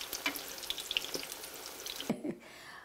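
Sicilian-style eggplant slices fry in a pan of oil with a close, crackling sizzle dotted with small pops, then the sound drops away sharply near the end.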